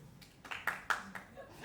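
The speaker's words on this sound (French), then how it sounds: "Pourquoi t'as applaudi?" A lone audience member at a comedy show clapping about six or seven times, steady and moderately close, in an otherwise quiet room.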